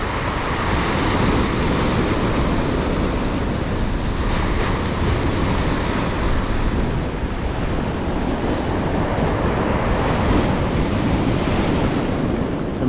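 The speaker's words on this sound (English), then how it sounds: "And the waves keep rolling in." Ocean surf rolls in onto a rough beach in a continuous, loud roar of breaking waves mixed with heavy wind buffeting the microphone, with no voices.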